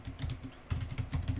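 Fingers typing on a computer keyboard during game programming, a quick, close run of soft key clicks in uneven bursts, with no talk.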